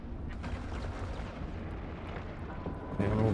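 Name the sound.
weapon fire in the video game EVE Online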